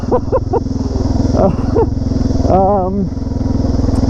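Motorcycle with a new chain and sprockets riding a dirt track, its engine a loud steady drone close by with rising revs, while a person talks over it.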